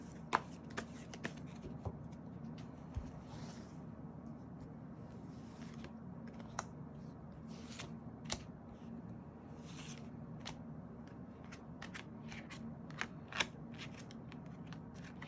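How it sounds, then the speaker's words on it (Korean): Tarot cards being shuffled by hand: faint, continuous riffling with occasional sharp card snaps over a quiet room hum. "제가 다른 카드를 좀 더 섞고 보겠습니다."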